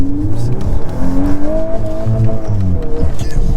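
A VW Golf 8R Performance in drift mode revs its engine with a loud, close, throbbing rumble and wavering rising tones. A voice may be faintly present.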